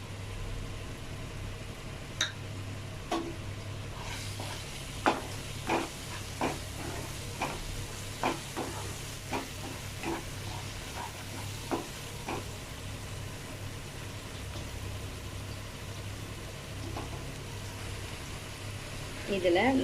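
Paneer masala frying in a pan, with a steady low sizzle and a series of sharp scraping clicks as a spatula stirs it, close and moderately loud with no talk.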